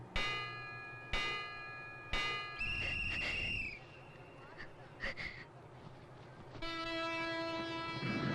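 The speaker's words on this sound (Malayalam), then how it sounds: "6526 നമ്പർ ട്രെയിൻ അല്പസമയത്തിനുള്ളിൽ 1ാമത്തെ പ്ലാറ്റ്ഫോമിൽ നിന്നും പുറപ്പെടുന്നതാണ്." The Kanyakumari–Bangalore Express, train 6526, departs platform 1 amid station noise: three sharp chime-like strikes, then a drawn-out horn blast, scattered clanks, and a long sustained tonal hoot that carries on to the end.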